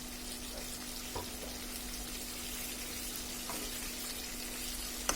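Sweet pumpkin frying in a generous amount of oil, a steady close sizzle with a few faint clinks of stirring, no voices.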